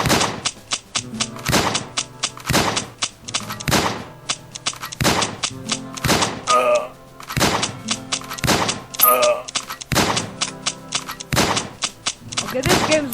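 Repeated gunfire from a shooting wave in the video game Mafia Wars, sharp loud shots in irregular bursts roughly every second, with a few softer thuds and game effects between them, no talking.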